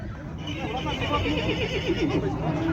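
A horse whinnies at a busy livestock market in Kyzylorda, its wavering call rising over a dense murmur of crowd voices and people talking nearby.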